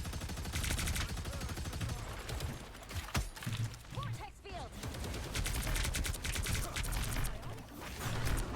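Rapid turret gunfire in the Marvel Rivals hero shooter game, dense bursts of automatic shots that run steadily over several seconds alongside game effects.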